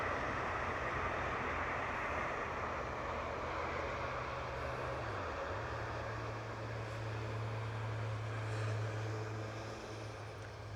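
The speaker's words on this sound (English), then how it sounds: "and here comes the train" A train passes near a canal aqueduct, a low steady rumble with a droning engine tone that shifts midway and continues at a moderate distance.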